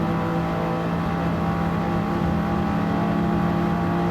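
A race car in Gran Turismo 7 runs flat out down a long straight, its engine a loud, steady, sustained drone with no gaps.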